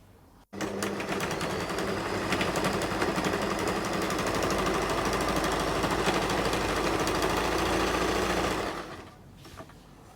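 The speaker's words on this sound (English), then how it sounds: "And then you go ahead and sew from here to here." A sewing machine runs steadily for about eight seconds, stitching the V-neckline of a medical scrub top, with a fast even motor whir and needle rattle, loud and close, then stops abruptly.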